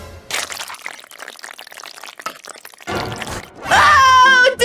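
Squishy balls on Banban's face being squeezed in the Garten of Banban video game, giving wet, gooey squelches in short bursts that end in a loud, drawn-out, groaning squish.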